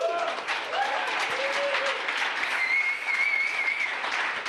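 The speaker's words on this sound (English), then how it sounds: "I know you clapped at that" Steady audience applause at a 2016 Nomad Summit talk, a full room clapping continuously and evenly throughout, with some faint whistles or cheers over it.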